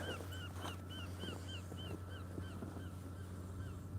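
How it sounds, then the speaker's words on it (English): Repeated gull calls, short rising-falling cries in a loose series, over a steady low engine-like hum throughout. "Got a really loud seagull over there."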